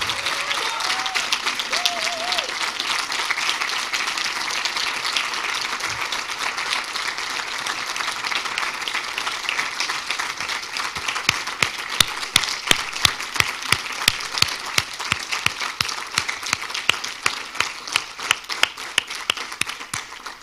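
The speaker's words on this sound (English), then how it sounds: "ask for a big round of applause for the Rijeka team" An audience at a university town hall event applauds the Rijeka team with a long, sustained round of clapping that grows sharper and more rhythmic toward the end, after a brief voice at the start.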